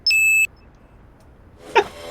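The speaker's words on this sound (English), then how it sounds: "Beep." A robot in the Sam & Max: The Devil's Playhouse video game gives one short, clear electronic beep, followed after a quiet pause by a brief soft burst of noise.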